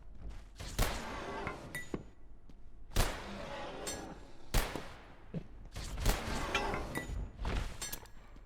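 Gunfire from a twelve-round gun in the video game Abiotic Factor: several loud, sharp shots spaced irregularly a second or two apart, each with a broadband crack and short decay over steady game background.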